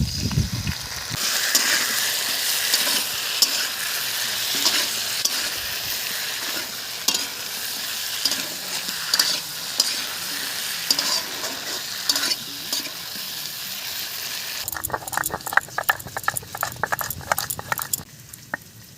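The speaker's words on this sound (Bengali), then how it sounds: "আলু ভাজা হয়ে গেছে মশলাটা দিয়ে দিলাম" Potatoes with spices fry in a hot pan, a continuous loud sizzle broken by repeated scraping and clattering stirs that grow sharper and more rhythmic near the end, with no voices.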